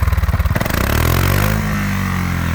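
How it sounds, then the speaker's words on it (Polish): A Piaggio MP3 HPE 500 Sport scooter's exhaust revs up loudly from a throbbing idle into a sustained, rasping roar, then settles into a steady rumbling drone close by. "tak dźwięczy ten tłumik, tak pięknie to słychać"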